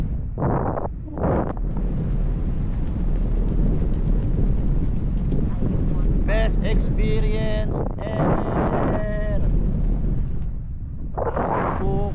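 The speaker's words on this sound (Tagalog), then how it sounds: "Lumalakas ang hangin." Strong wind buffets the microphone in a constant roar while parasailing in Boracay, with voices speaking intermittently over it.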